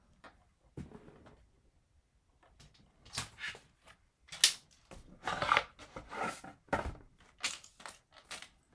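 Scissors cut through design paper for a scrapbook photo album, close-up snips and rustling paper in uneven bursts, some sharp and some softer, separated by brief quiet pauses.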